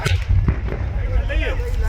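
A gas cylinder explodes in a truck burning at a gas agency in Bareilly, heavy booming blasts and cracks at a distance amid a rumbling fire, with voices in the background.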